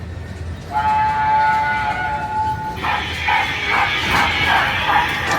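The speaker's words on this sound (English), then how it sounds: "Here's a train." A train in Vietnam sounds a loud, steady horn for about two seconds, then rolls past close by with a rhythmic clatter and rumble.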